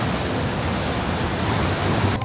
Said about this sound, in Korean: 해안가라서 그런지 확실히 바람이 강하긴 해요